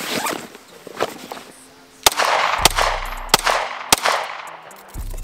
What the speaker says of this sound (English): I'll show you a clip of me drawing my pistol from my Vertex bag with a Velcro mounted secondary in my bag